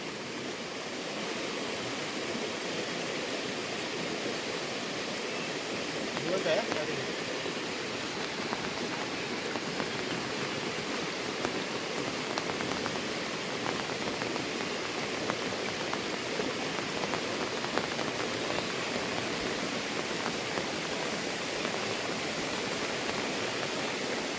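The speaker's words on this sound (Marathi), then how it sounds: "आता पुन्हा एकदा पाऊस चालू झाला आहे" Steady rain falls outdoors during a fishing trip on the Konkan coast, making an even, broad hiss that continues without a break for the whole stretch, with no voices over it.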